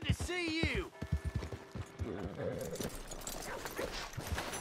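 Horse hooves clip-clop in the Red Dead Redemption 2 video game, a run of quick, fairly close clopping beats mixed under game speech and other voice sounds.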